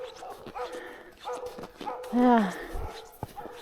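A dog at a house lets out a short, rising whine and a few yips amid nearby casual talk, the brief cry standing out loudly for a moment before fading.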